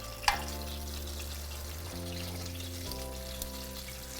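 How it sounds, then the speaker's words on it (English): Taquitos frying in hot oil in a pan, giving a steady low sizzle and bubbling that runs continuously, close but fairly quiet, with one brief sharp clink near the start and no talking. "we're just going to fry that side for another couple minutes"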